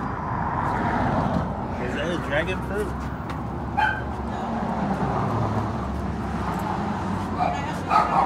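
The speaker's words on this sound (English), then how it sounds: "Got a cute little doggy there" Small dog yipping beside a public sidewalk near a business, short high barks rising over steady traffic and a voice talking close by.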